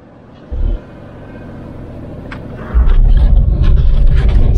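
Car engine rumble from a vehicle driving down toward a beach on the Turkish Riviera, a low steady drone that swells sharply louder partway through and stays heavy to the end, with a brief thump early on.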